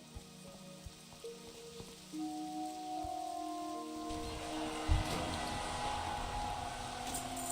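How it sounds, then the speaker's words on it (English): Rain falling in a World of Warcraft game world, a soft steady hiss that starts quiet and swells louder midway, continuing alone beneath faint tonal game music. "And now it's raining."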